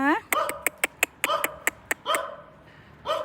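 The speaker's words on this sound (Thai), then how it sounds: "โอ้ลูกหมาเต็มเลย โอ้มีหมาลูก" Puppies whine in a quick run of short, high yelps in an abandoned housing project, the cries spaced close together and nearby, with a voice heard at the start and end.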